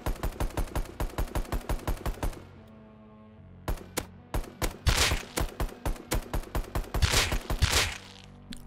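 Semi-automatic rifle fitted with a recoil compensator in the video game Rust, fired in quick, evenly spaced shots: a long run of sharp cracks, a brief pause, then another rapid string, loud and close with no talk.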